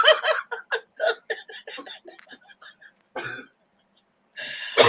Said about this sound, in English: he's coughing like he's got the flu